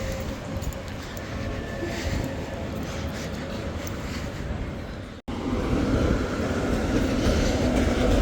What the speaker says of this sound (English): As ever in Gothenburg, watch out for the trams.